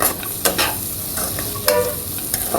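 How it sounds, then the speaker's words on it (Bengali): Fish heads being stirred and fried in a pan with mung dal for muri ghonto, a spatula scraping and clinking against the pan over steady sizzling, close and loud with no voices. "এখন মাছগুলো আমি আবার ভালোভাবে মিশিয়ে নিয়ে"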